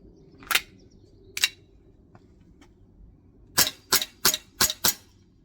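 A VFC Stark Arms P320 airsoft pistol fires at a range: two separate sharp snaps, then a quick run of five or six crisp shots, each a short, close, loud crack with quiet pauses between.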